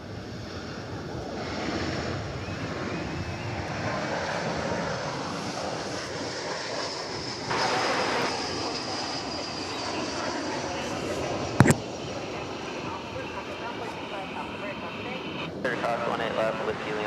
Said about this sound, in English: here's that flight from Phoenix, of which we spoke but moments ago